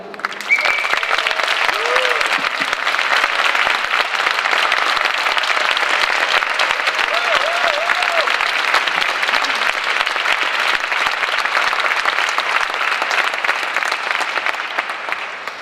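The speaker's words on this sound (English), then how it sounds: "warm round of applause for Ulrike Guérot" Sustained applause from a conference audience in Vienna welcoming a panel speaker, steady dense clapping throughout with a faint voice or two briefly audible beneath it.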